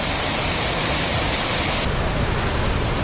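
A roadside waterfall about two kilometres from Athirappilly Falls roars in a dense, continuous broadband rush, loud and close with no pauses or voices.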